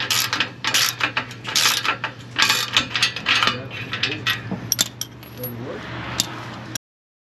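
A ratchet clicks in quick bursts while removing exhaust header bolts on a Honda Integra, close and loud, with metallic clinks and short pauses between strokes before the sound cuts off abruptly.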